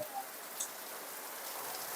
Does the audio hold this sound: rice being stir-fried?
no